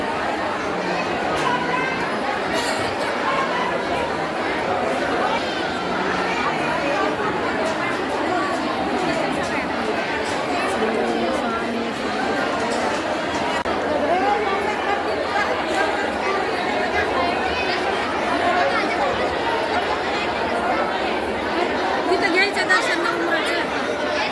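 A dense crowd murmurs without pause in a crowded temple darshan queue at Akkalkot: many overlapping voices at an even, loud level, with a nearer speaker talking over the hubbub.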